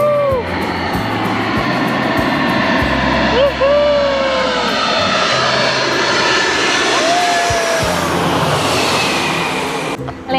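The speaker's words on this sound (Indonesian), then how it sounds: "Untuk yang kedua kali aku lihat pesawat landing." Airplane landing at Penang, a loud continuous engine roar passing nearby, with people talking over it throughout.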